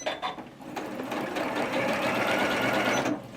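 Janome 9480 computerized sewing machine running steadily through a short burst of locking stitches, a close, continuous mechanical whir that stops abruptly at the end, no talking.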